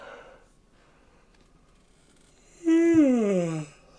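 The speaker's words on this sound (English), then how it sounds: "Hate them yawns." A man lets out a single drawn-out yawn, a voiced sigh that starts high and slides downward for about a second, close to the microphone after a near-silent pause.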